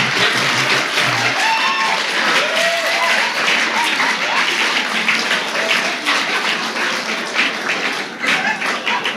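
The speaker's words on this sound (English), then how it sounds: "That applause all came from the back part" Audience applause from the back of a hall fills the whole stretch, a dense steady wash of clapping that stays loud with slight swells and no voices over it.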